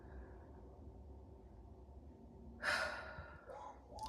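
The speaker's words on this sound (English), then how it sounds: "Breathe in." One deep inhaled breath, close and fairly loud, rises out of a quiet room hum and trails off into a softer exhale.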